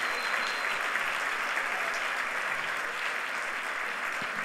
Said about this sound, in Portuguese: Então dá um aplauso ao Senhor Jesus.